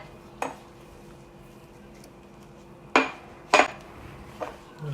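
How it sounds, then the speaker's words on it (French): Spice mix poured from a container over chicken drumsticks in a bowl, giving a few sparse, sharp clinks and taps against a quiet background, with no talking. "je vais renverser sur mes pilons"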